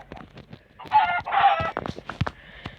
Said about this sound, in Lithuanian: Čia dabar viščiuką reikia biškį nusikirsti.